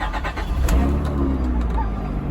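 A used car with almost 300,000 miles, sold at auction, cranks and catches, settling into a close running idle after a brief start, with faint voices in the background.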